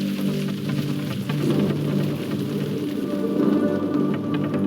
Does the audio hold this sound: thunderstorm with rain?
yes